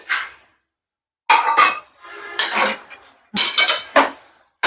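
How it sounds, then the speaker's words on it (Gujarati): Spoon stirring peas in a metal pan on low gas, bursts of scraping and clinking in four loud close passes separated by short silences. "વટાણાને મિક્સ કરી લેવા"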